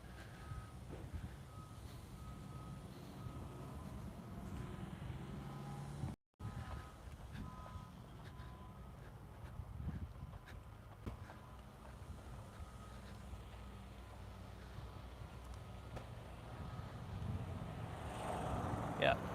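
A truck idles and rumbles at the SpaceX Starbase main gate in Boca Chica, Texas, with a steady low engine drone, faint reversing beeps and wind noise, and a person talking intermittently over it.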